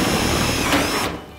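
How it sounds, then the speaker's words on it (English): A power drill whirs steadily through a metal trailer frame at close range, its motor droning for about a second before cutting off abruptly. "Just drill straight through"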